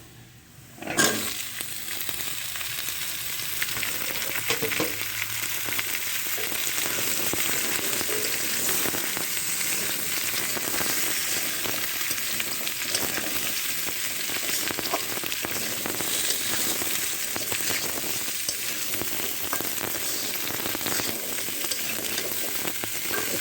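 Steady, loud sizzling of potatoes and papaya added to fried onion and garlic in a pan, continuous broadband crackle after a brief clatter at the start, with no talking.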